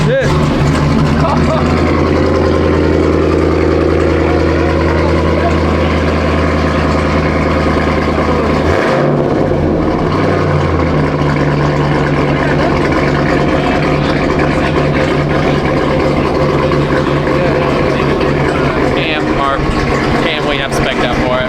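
A Jeep Trackhawk with a supercharged engine, a full Corsa exhaust and high-flow cats runs at a steady, loud, rumbling idle, with a brief dip and revving change midway before settling back to a constant drone.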